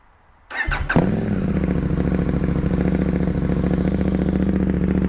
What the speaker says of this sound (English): I know you want to hear the bike run. Okay, I'll fire it up for you.